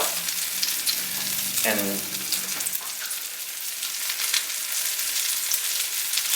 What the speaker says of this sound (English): Just pop the bottom buns in the oil and let the oil soak up